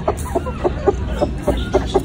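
A hen gives soft, steady clucks while settling onto her eggs, about eight short rhythmic calls, close by over a constant background hiss.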